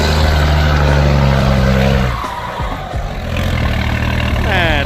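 A racing truck at Wichian Racing braking hard and sliding, a loud close engine roar that drops abruptly into a skidding scrub before the engine picks up again.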